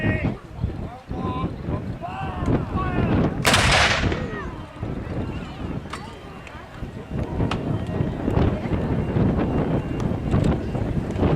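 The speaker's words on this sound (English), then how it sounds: "Number 3, the layer showing he's ready to fire by putting his hand on the breech" A 25-pounder field gun at a 1940s-themed weekend display fires once with a sharp, loud blast, followed by outdoor wind rumble and crowd noise as a commentator talks throughout.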